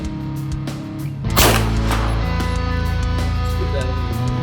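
A single loud gunshot rings out from a pistol fitted with a Votatu RMD502 optic and M9L-G laser/light combo during range testing, sharp and close, followed by a ringing decay.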